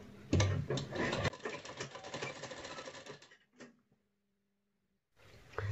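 A sewing machine runs a steady, rapid stitching burst for about three seconds while sewing the side seam of a matka-neck blouse, then stops and leaves a brief faint mechanical click before quiet.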